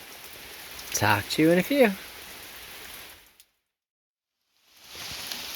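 Steady rain falls on an outdoor area near a chicken coop, a broad even hiss that runs under a brief spoken line, cuts out for a moment of near silence, then returns just as steady.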